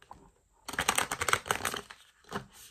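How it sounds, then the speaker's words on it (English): Tarot cards shuffled in the hands, a rapid papery riffle of flicks and slaps lasting over a second, close and moderately loud, then a shorter burst of shuffling. "Let me get a few shuffles"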